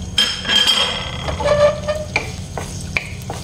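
Ingredients for a Bisaya vegetable soup are sautéed in a pan: a bright, close sizzle with spatula scrapes and metallic clinks against the pan, and no talking.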